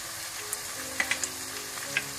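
A pan of spinach and mutton with ginger-garlic paste fries and is stirred, a faint sizzle broken by a few brief scraping clicks, with no talk.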